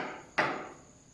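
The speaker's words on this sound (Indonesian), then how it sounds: "Meja, pertemuan antara meja dengan pulpen." A pen tapping once against a table, a single quiet, crisp knock with a short fading decay and no other sound around it.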